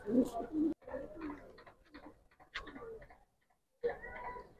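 Giribaz and coloured pigeons cooing in a loft, several soft low coos in short bursts separated by pauses, close by, with faint rustling and brief speech-like sounds mixed in.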